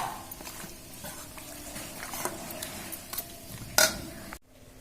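A little sugar drops into hot oil in a pan for a chicken dish, setting off a steady low sizzle with soft scraping and a bright metallic clink near the end, all up close.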